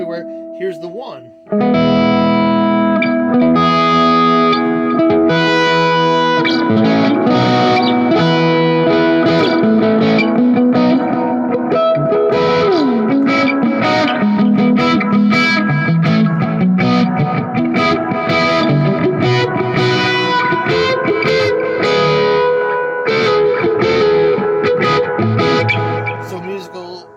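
An electric guitar plays a blues solo through a distortion effect, with sustained bent notes and fast runs ringing loud and continuous from start to finish, close and upfront.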